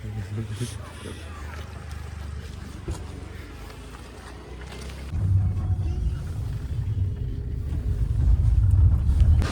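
Rumbling interior of the teacher's car on a drive, a steady low road drone that grows louder and heavier partway through, with wind buffeting and people talking over it.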